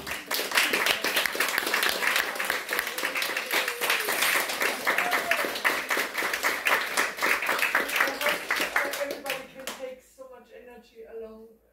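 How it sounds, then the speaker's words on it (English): A conference audience gives sustained, fairly faint applause for the participants, with voices mixed in, fading out near the end. "A big applause for all the participants."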